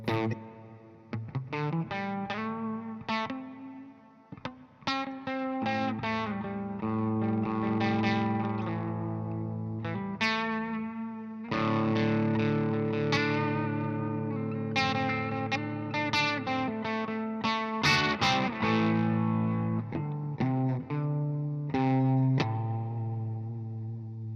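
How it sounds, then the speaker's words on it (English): Electric guitar played through a hall reverb effect, sounding distorted notes and strummed chords in short phrases with lingering tails and brief pauses, loud and close with no voices. "this is a hall reverb."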